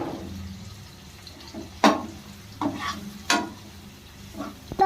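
Curry leaves dropped into hot oil for uppittu give a few short, fairly close sizzle bursts with stirring clatter between them, no voices.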